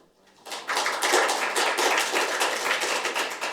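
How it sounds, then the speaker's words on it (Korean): An audience at a Korean policy forum applauds an introduced guest, a dense burst of clapping that starts abruptly and holds loud and steady to the end. "한 분 한 분 소개해드릴 때 큰 박수 부탁드리겠습니다"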